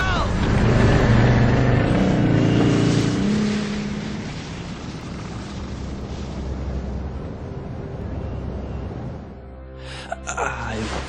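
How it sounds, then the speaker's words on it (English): Snowmobile engine from the game Resident Evil Code Veronica, a steady loud motor drone that fades to a lower idle-like rumble, with a brief sharper burst near the end. "There's a snowmobile over there! Perfect! We'll be able to ride right over to the Australian base with this."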